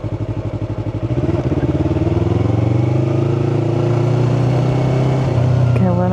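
A Yamaha R3 motorcycle engine heard from the rider's seat, pulsing at idle and then a loud steady drone climbing in pitch, with a quick drop and change of tone near the end as a gear shifts.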